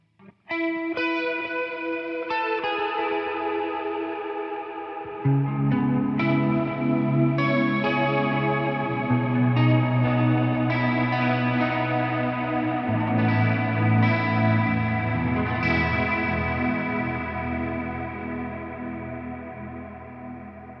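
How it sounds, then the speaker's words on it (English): An electric guitar plays a run of notes through a warbling vibrato effect, the pitch wavering steadily; clear and up close, with no talking. "Let's check out the vibrato sound I have in there."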